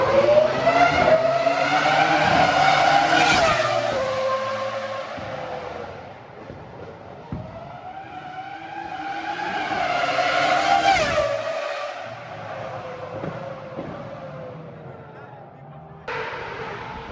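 High-revving Ferrari Formula 1 engines whine past on a circuit in two long sweeping passes, rising and falling in pitch as they brake and accelerate through corners.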